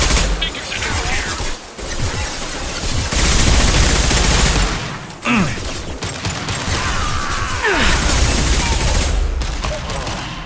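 Mass Effect 2 combat, with heavy high-impact gunshots and rapid volleys firing in dense, loud bursts that fill nearly the whole stretch, with brief gaps between salvos.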